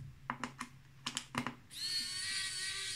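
Keys on an Asus Chromebook keyboard with some keys not responding are pressed one at a time, giving about seven crisp, close clicks in small clusters, followed by a steady hiss.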